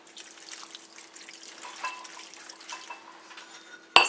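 A cup of water poured into a pot holding two cups of sugar makes a soft, steady trickling wash, faint and close, ending in a sudden loud knock against the pot, with no voices.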